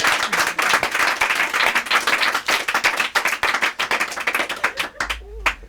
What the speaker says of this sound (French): Vous pouvez l'applaudir quand même bien fort.